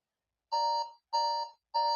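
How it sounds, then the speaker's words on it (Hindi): A 10-second countdown timer for a KBC-style Haryana GK quiz sounds as repeated loud electronic alarm beeps, three even bursts in quick rhythm, with no speech over them. "ये आपका 10 सेकंड का टाइमर शुरू हो गया है भाई, 10 सेकंड है आपके पास सिर्फ"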